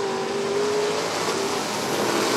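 Vintage race cars, including a 1955 Chevy, battle through the chicane of a figure-8 course at Rockford Speedway, engines roaring steadily and loudly with a sustained engine drone throughout.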